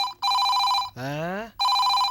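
A telephone rings in loud, close electronic trill bursts, twice broken by a short rising tonal sweep, with no speech over it.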